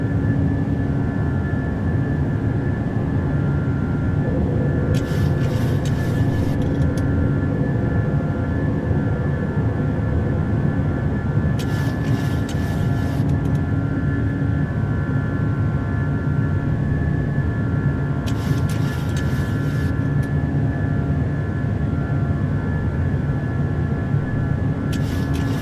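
A PMDG 737-800 airliner climbing out of Dublin with engines at climb thrust in Microsoft Flight Simulator gives a steady, loud jet roar and whine. A brief hiss of noise comes back at regular intervals.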